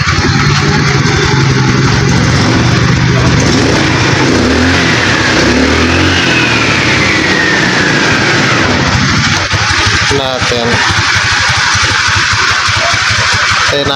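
A Rusi motorcycle engine revs loudly and close up, with a sustained rising and falling drone and throttle swells over the whole stretch, and no one speaking.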